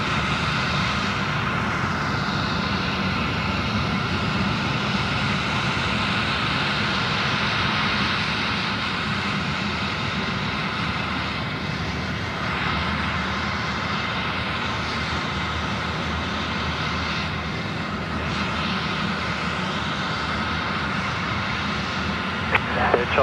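An Air China airliner on runway 16 right at Sydney Airport, its engines roaring steadily and loudly across the whole stretch while radio voices talk over it.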